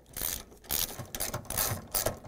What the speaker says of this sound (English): we're going to use a 3/8 socket wrench, and we're going to take out three bolts here